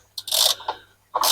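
A ratchet driving a Torx socket on a Range Rover L405 during coolant leak repair: short bursts of clicking, one before a pause and another near the end, close and fairly loud.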